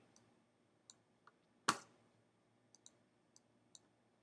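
A computer mouse gives a series of quiet, crisp clicks spaced irregularly apart, with one louder snap partway through, while curves are being drawn on a computer in a quiet room.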